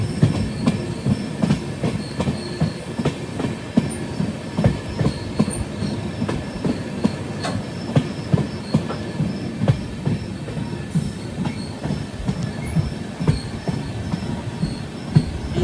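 An Ernakulam to Velankanni weekly express sleeper train runs toward Tamil Nadu with rain falling, a steady rumble with rhythmic clickety-clack of wheels over rail joints and occasional faint squeals, heard from inside the coach.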